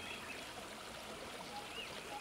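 A river rushes steadily in a soft, even wash of flowing water, faint and continuous, with a few thin bird calls over it.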